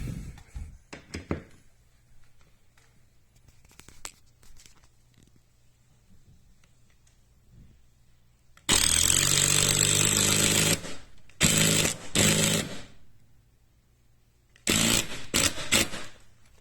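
Power driver sinking long screws into a heavy-duty wooden shelf in a townhouse, heard as loud, harsh whirring bursts of about two seconds, one sustained and several shorter, separated by quiet room tone.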